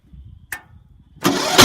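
A riding lawnmower engine started without a battery: a brief sharp click, a pause, then the engine cranks over and catches with a loud, close rumble at the end.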